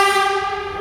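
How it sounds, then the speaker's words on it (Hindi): A Rapid Metro train arriving at a station late at night sounds a loud, steady horn-like tone with strong ringing harmonics, held for under a second with no voices over it. "गाइस हमारी मेट्रो आ रही है"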